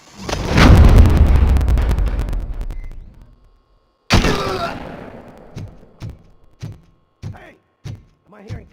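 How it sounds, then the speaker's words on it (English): Gunfire from the RoboCop video game: a long roaring burst of shots, then another heavy blast and a series of sharp separate shots spaced apart, loud and close. "Am I hearing gunshots?"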